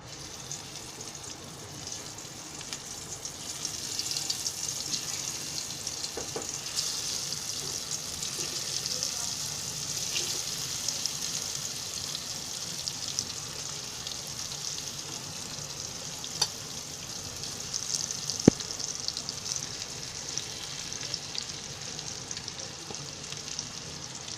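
Spiced bitter gourd slices, dry-coated in fresh hot masala, fry in a kadai with a continuous bright sizzle and occasional soft scraping clicks, moderately loud and steady for a long stretch.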